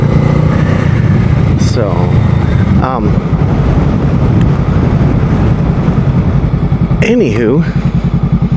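A 2023 Honda Rebel 500 motorcycle being ridden on a mild, slightly windy day, its engine droning steadily and loudly throughout with wind rumble, while a rider talks over it.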